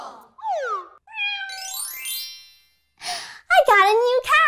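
A cat meows several times in a row, with rising and falling cries, a sigh-like breath and a final drawn-out wavering meow, close and fairly loud with quiet gaps between calls.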